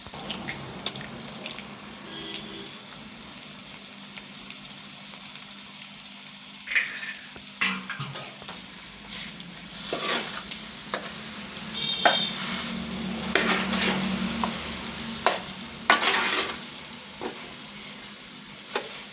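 Eggs fry in a pan alongside dry-roasted chicken pieces for chicken fried rice, a continuous sizzle with utensil stirring and clinks that grows busier and louder midway, crackling close up.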